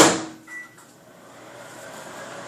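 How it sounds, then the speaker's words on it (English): A microwave oven starts cooking pumpkin oatmeal with a loud, abrupt clunk at the start, a brief tone just after, then settles into a low, steady running hum. "So you're just going straight to your microwave, and you're gonna pop that in for 2 minutes."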